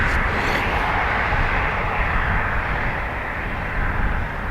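An ATR turboprop airliner at Dublin Airport produces a steady, loud broadband engine roar that holds constant throughout, without talk.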